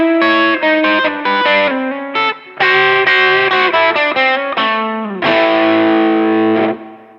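An electric guitar played through a Dumble-style overdrive pedal blending high gain with the clean channel rings out in loud, saturated chords and single notes, rich in overtones, with short gaps between phrases and a long sustained chord at the end.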